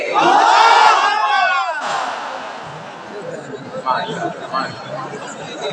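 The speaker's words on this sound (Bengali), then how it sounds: "সবাই মিলে তাকবীর করবেন" A large religious gathering's crowd shouts the takbir in loud unison, a massed roar of voices that swells then fades into a murmuring hubbub of chatter.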